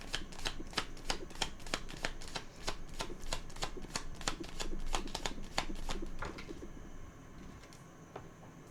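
Tarot cards are riffle-shuffled close by in a quick, steady run of crisp fluttering snaps lasting about seven seconds, then a short quieter pause with a faint shuffle.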